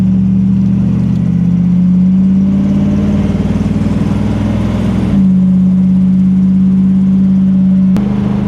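The engine and drivetrain of a 1979 GMC C35 pickup truck drone loudly from inside the cab as it cruises at about 65 mph on an interstate, with a steady low hum and a brief shift in tone partway through.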